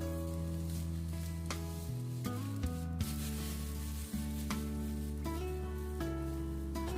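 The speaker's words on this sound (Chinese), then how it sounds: "把河粉下锅，刚下锅先不要来回翻动，先煎一下，激发出河粉里面的香味" Rice noodles fry undisturbed in a hot wok, giving a steady, close sizzle beneath background music, with no talking.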